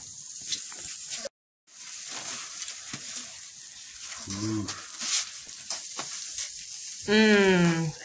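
Beef tongue sizzling on a grill, a steady close hiss of frying meat with small crackles, interrupted by a brief gap and a short tonal chime-like sound near the end, without speech.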